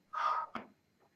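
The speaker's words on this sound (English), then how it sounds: "So hopefully you can hear that I'm breathing out as I'm pushing up." During a core workout, a person gives one sharp, forceful breath out while pushing up, followed by a shorter huff, close and clear with no talking.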